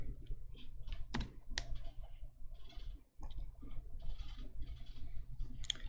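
Steady typing on a computer keyboard, rapid close key clicks with a couple of sharper louder strokes, running continuously at a moderate level with no talk.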